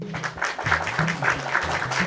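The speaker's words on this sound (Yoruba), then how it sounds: "ẹ pàtẹ́wọ́ fúnra yín" Children clap for themselves on a Yoruba children's game show, a brief patter of applause with a pitched musical or voiced tone looping underneath.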